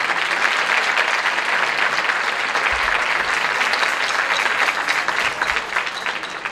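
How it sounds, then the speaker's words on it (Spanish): Loud, sustained applause from a concert audience at a Santa Cecilia concert, praising the performers with dense, steady clapping that fills the whole stretch without talk. "Un aplauso grande para ellos."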